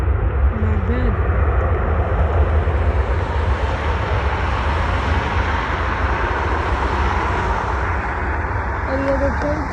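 United Airlines jet from Chicago O'Hare landing at Cleveland Hopkins airport, a steady broad engine roar at moderate distance that holds throughout, with faint voices talking beneath it.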